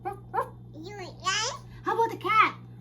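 A small child imitates a dog with a few short barking yips and whimpers, voiced in several quick bursts over a steady background hum.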